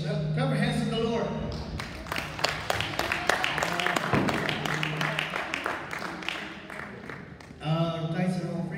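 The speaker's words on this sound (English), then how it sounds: "Clap your hands to the Lord." A church congregation claps in a lively, rhythmic burst, with singing and voices mixed in around the applause.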